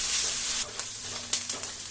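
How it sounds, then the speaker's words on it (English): Chopped onions sizzle loudly in a hot pan for chicken biryani, a steady close frying hiss broken by a few sharp stirring scrapes. "Stir fry it until it turns transparent."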